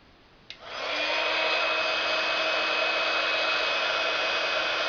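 A click, then a hair dryer drying crackle-finish paint on a door hanger whirs up and blows steadily at close range, a loud continuous airy hum.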